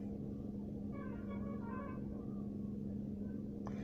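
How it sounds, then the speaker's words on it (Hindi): Inside a closed Maruti Celerio, its 3-cylinder engine idles as a low, steady hum and faint rumble, quiet and continuous with no revving. "तो गाड़ी की आइडलिंग पे इतनी आवाज़ आती है।"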